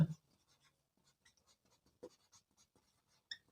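Writing on a board during a physics class on force, heard as sparse light scratchy strokes and a few louder taps against near silence.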